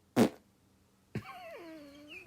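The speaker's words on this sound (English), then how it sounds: "Yeah, you're farting." A person lets out a short, blunt fart, followed a moment later by a longer, sliding squeaky tone that bends downward before trailing off, both close and fairly quiet.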